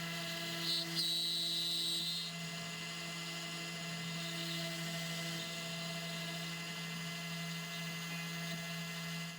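A Carvera Air CNC mills a plastic test part for a micro turbocharger with a steady, sustained whine and a constant low hum. Both hold evenly from start to finish, and brief higher squeals come early on.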